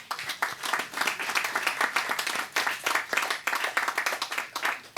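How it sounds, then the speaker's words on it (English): An audience claps steadily for five seconds, a dense, even round of applause at an electric vehicle reveal ceremony held outdoors by an energy ministry in Montserrat. "Please join me in giving them a round of applause."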